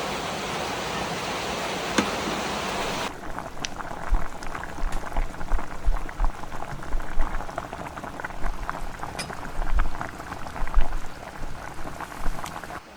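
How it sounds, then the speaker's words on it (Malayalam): Herbal hair oil boils on a stove, a bubbling, crackling simmer heard close up with soft irregular pops, following a brief burst of broad hiss at the start. No one speaks. "എണ്ണ തിളച്ചിറങ്ങിയില്ലേ? അതെ അടുപ്പത്താകുമ്പോ വേഗാവും."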